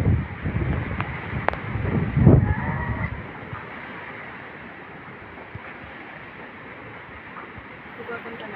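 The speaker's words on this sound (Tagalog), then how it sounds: "Ang lakas pa ng hangin," Strong wind roars through a microphone during a storm at sea, a broad steady rush with louder gusts early on and a voice talking over it.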